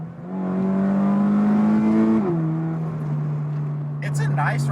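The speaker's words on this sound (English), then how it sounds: "I love the way this car really sounds" A modified car's exhaust note heard from inside the cabin: a steady, loud low drone with rich harmonics that dips in pitch partway through and then holds evenly, with faint rustling near the end.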